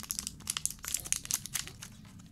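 A toy package, a L.O.L. doll unboxing, is torn open by hand. Dense, close crinkling and crackling of plastic and paper runs for about two seconds with no talking.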